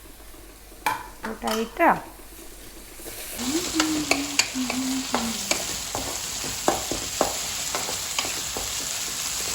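Ginger garlic paste fries in a pan while being stirred, with bright sizzling and scraping strokes and a few clinks of a utensil against the metal, close and steady after an earlier stretch of louder pan knocks.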